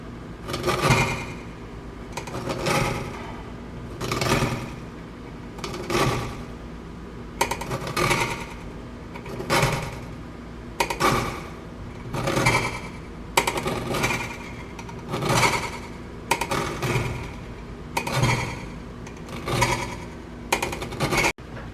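A lime rubbed against a zester in a kitchen, a rhythmic series of short rasping strokes repeating steadily at close range, about a dozen in all, with no talk.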